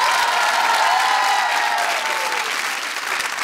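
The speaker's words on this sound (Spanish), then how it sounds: "Yo quiero un aplauso de todos ustedes." Loud, sustained audience applause at the close of a comedy monologue at a festival show, a thick wash of clapping that holds steady throughout and fades only slightly near the end.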